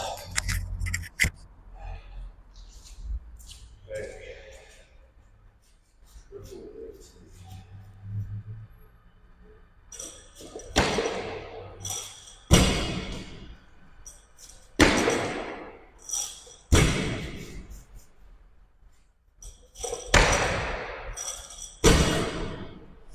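A barbell is dropped again and again during clean sets in a home gym, giving heavy booming thuds roughly every two seconds. Quieter shuffling and handling noises come first.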